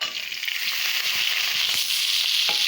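Chopped onion, chili and tomato fry in a pan for khichuri, giving a loud, continuous hiss and sizzle close by with no voices over it.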